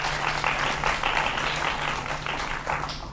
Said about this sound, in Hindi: जोरदार तालियां इस बात पर जी